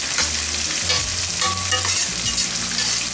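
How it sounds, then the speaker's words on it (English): Chopped onion fries in a hot pan with a dense, continuous sizzle and constant stirring scrapes, close and loud throughout with no voices. "Keep stirring the onion so it's cooked even all the way"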